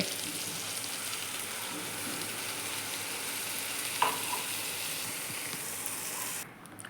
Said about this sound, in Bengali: আরও 2-3 মিনিট আমি এটাকে ভেজে নেব।